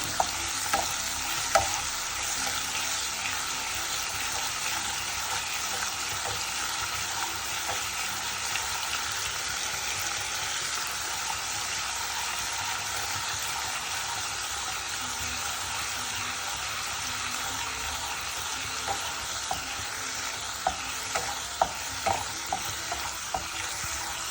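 Ginger and garlic frying in oil for a buffalo meat fry, a steady close sizzle with scattered stirring scrapes throughout, no talk.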